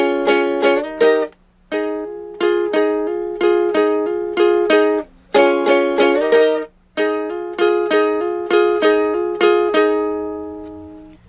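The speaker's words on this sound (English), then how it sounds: "we'll add chords to this part, and it'll sound like this." Ukulele playing a theme with added chords, heard as bright plucked strummed chords in short rhythmic bursts with brief pauses between phrases, close and clear with no talking.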